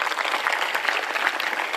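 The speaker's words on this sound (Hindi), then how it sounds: "जब हमें एक बार ताली बजाओ।" Steady applause from a religious discourse audience at Bageshwar Dham, dense and continuous with no breaks, loud and close throughout.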